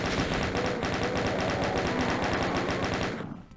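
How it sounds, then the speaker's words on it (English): Sustained rapid-fire chaingun bursts in Doom 2, loud and close with a steady mechanical rhythm running nearly the whole time, then cutting off abruptly near the end. "chain gunning on this because we've got lots of chain gun ammo"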